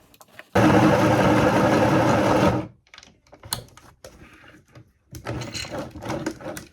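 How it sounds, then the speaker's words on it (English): A sewing machine stitches patches onto an old vest in one loud, steady two-second run, followed by quieter clicks, fabric handling and a shorter second burst of stitching. "And now we sew them on."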